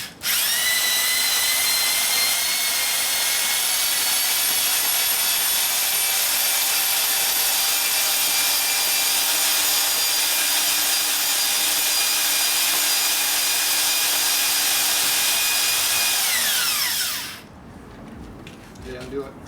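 A cylinder hone spins inside an LS engine block bore (Chevy 5.7L/5.3 V8, home backyard setup), giving a loud, continuous high whine with drifting tones for about seventeen seconds before abruptly cutting off.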